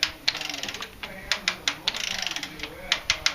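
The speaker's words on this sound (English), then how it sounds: "torquing the head down." A ratchet wrench clicks in quick uneven bursts while torquing down the cylinder head on an EMD GP-10 diesel locomotive in a museum shop, close and sharp with brief pauses between pulls.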